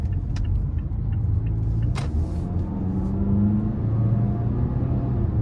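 Interior of a 2022 Mazda CX-5 S Carbon Edition with 2.5 engine, AWD and 6-speed automatic on the move, a steady low road rumble and engine drone with a faint whine and a brief click, no talking.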